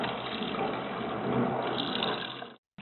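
Warm water from a tap pours steadily over a printer print head in a continuous, close gushing rush that cuts off abruptly near the end.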